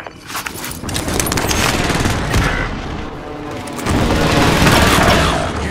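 Dense, loud gunfire and explosive booms from the video game Call of Duty: Modern Warfare, sustained rapid shots and blasts throughout with a brief lull midway before the barrage intensifies again.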